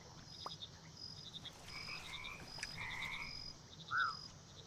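Frogs croak in the farming game Mudborne, with repeated rhythmic call bursts and a brief chirping croak near the end, all set against a steady soft ambient bed with no talking.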